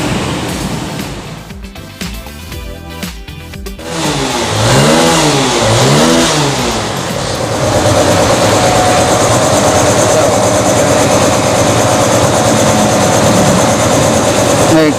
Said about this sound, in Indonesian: Setelah ganti semua, dihidupin mesinnya nggak ada masalah.